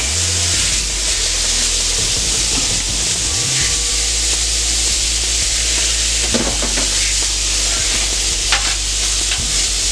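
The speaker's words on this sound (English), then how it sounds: "So I'm going to throw my meat on here." Thin-sliced steak hits a Steelmade griddle beside caramelizing onions and green peppers, a loud constant sizzle with occasional scraping and spatula taps throughout, no voices.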